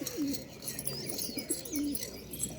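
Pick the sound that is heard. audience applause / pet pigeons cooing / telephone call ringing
pet pigeons cooing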